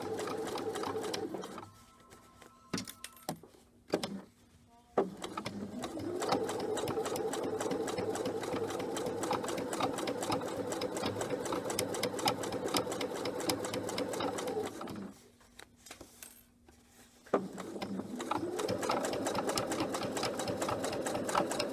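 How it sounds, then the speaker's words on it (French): A domestic sewing machine stitches the final strip of a reversible quilt block, running in long steady bursts with brief pauses and a short stop-start near the beginning, close and clear with no talking. "Maintenant, on coud la dernière bande, donc la bande E."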